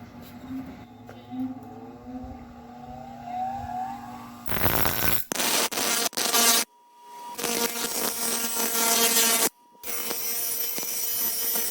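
Metal cutting along the edge of a rear fender panel during body tub fabrication, harsh loud grinding bursts broken by short pauses, following a quieter stretch of faint workshop noise.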